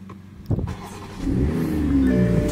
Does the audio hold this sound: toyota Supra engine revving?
yes